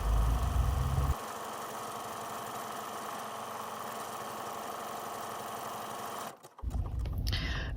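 A sewing machine fitted with a buttonhole foot runs steadily while stitching a buttonhole, a constant mechanical hum that holds for several seconds, then cuts out briefly before the motor whirs back up near the end.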